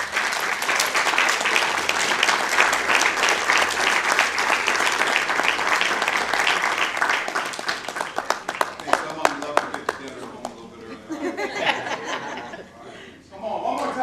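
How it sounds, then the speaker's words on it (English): Applause for nominees gathered for a photo at a city council meeting, steady clapping with chuckles and laughter for several seconds, thinning into scattered claps and voices near the end. "Big round of applause."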